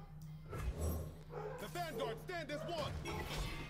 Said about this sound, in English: barking at something